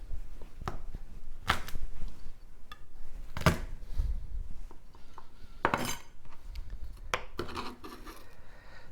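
A knife dicing garlic on a cutting board in a home kitchen: irregular sharp knocks and scrapes of the blade, some louder than others, close and clear with no talking.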